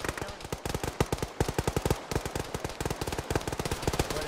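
Rapid automatic gunfire in the Arma military sim, ShackTac squad play: dense bursts of sharp, evenly spaced shots rattling almost continuously, loud and close.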